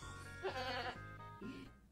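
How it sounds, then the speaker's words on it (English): A goat bleats in a meme compilation, two wavering, quavering cries close by, the second shorter and softer, with no talk over them. "Oh, the goat."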